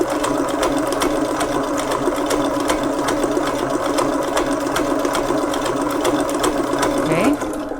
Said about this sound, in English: we need to use high speed in order to do so